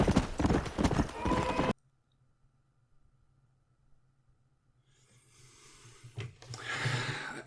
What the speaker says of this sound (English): And the horse moves even faster when you keep on dirt trails.